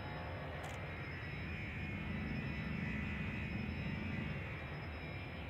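Spaceship engine at full throttle in the Elite Dangerous game, a steady, dense roar with a low rumbling hum held at constant loudness throughout, no voices.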